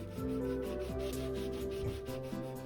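A part of a cheap water blaster being turned into a film prop is sanded by hand, producing close, continuous scratchy rubbing strokes under background music.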